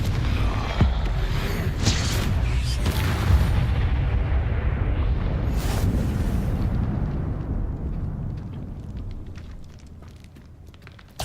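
A Confringo fire spell in a Harry Potter video game erupts as a loud rumbling explosion, a sustained booming roar with crackling bursts that swells and slowly dies away over several seconds.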